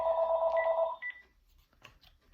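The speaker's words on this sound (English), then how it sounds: "sorry for the ringing of the phone." A telephone rings close by with a bright electronic trill lasting about a second, then a short second burst, before fading to quiet room noise with faint movement.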